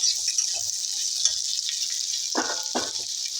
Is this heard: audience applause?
no